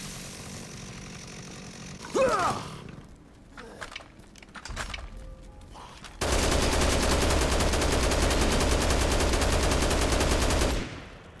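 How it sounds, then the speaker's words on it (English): A heavy machine gun fires in the game Dead Rising Deluxe Remaster, set in a zombie-filled mall, with one long, loud, unbroken burst of rapid rounds lasting several seconds after a few scattered smaller sounds. "I'm gonna pick up that heavy machine gun and just go ham."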